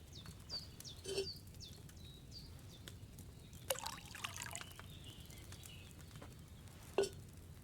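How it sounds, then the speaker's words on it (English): Wine trickles softly into a cauldron in Kingdom Come Deliverance II, a faint, steady liquid pour under quiet ambience with birdsong and a few louder knocks and clinks. "First, you have to pour the right base into the cauldron."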